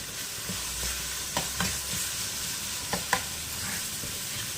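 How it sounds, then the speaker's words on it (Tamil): Continuous sizzling of onions sautéing in a pan, broken by several sharp stirring scrapes and taps of a utensil. "நல்லா வதங்கணும்."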